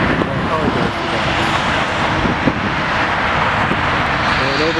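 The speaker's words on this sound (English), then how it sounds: "over here we have a United Airbus 319 taking off" A United Airbus A319 takes off at O'Hare airport, its broad, steady jet roar filling the air with traffic hum and wind underneath; a voice talks faintly over it.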